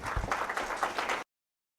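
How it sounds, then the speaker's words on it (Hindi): Audience applause at a national Surya award ceremony, a steady burst of many hands clapping for about a second before cutting off into silence, with a brief return of sound at the very end. "जोरदार स्वयं अपने लिए ताली बजाए।"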